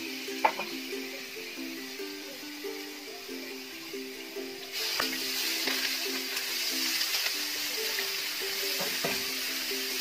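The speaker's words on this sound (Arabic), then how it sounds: "نحطو الزيت نديرو البصله تاعنا تتقلى" Onion frying in oil in a pan for a meatball sauce, a soft continuous sizzle that grows a little louder partway through, with a faint steady hum underneath.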